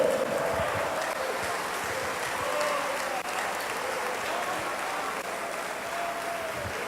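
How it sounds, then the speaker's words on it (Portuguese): A church congregation claps steadily and loudly together, a full, even wash of applause with a voice calling out faintly beneath it. "Aplauda o Rei."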